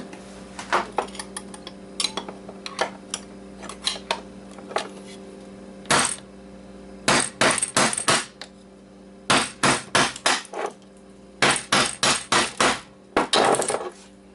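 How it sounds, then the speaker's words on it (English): A hammer knocks apart an Xbox hard drive, landing sharp metallic blows in scattered single hits and then quick clustered bursts, loud and close, over a steady low hum. "So we can hammer this thing out."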